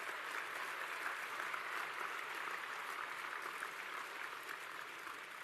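Sustained audience applause at an awards closing ceremony, a dense, steady wash of many hands clapping that holds at an even level for several seconds without talk.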